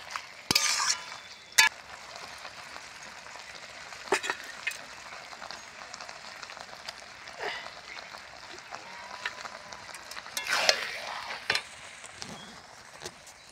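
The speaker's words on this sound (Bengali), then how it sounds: "এইবার চিংড়ি মাছ ভাজাগুলো ঢেলে দেবো এর মধ্যে।" Fried shrimp are stirred into a Malabar spinach curry in a pan, giving a low, steady sizzle broken by sharp utensil clinks and scraping stirs at irregular intervals.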